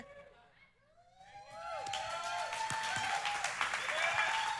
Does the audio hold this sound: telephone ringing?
no